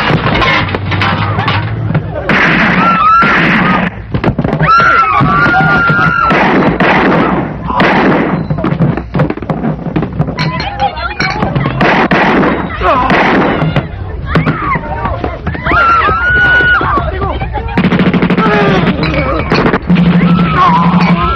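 Loud, dense bursts of rapid gunfire popping continuously for a long stretch, close and harsh, with voices shouting underneath, in a Tagalog action movie.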